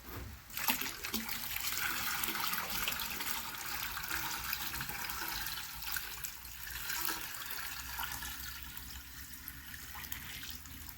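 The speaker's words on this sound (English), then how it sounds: "Dump this water off." Water splashes and pours out of a prospecting pan or bucket holding dirt and pebbles, steadily for several seconds, a continuous hissing wash with no talking.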